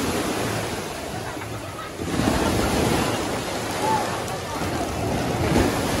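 Ocean waves break at a crowded beach, a continuous roar of surf with wind buffeting the microphone. The wash swells louder partway through, and faint voices sit in the background.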